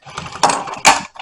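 An older manual sewing machine back-tacking a seam on boat seat upholstery, giving short mechanical bursts of needle and feed clatter with two louder pulses, close up and heard alone.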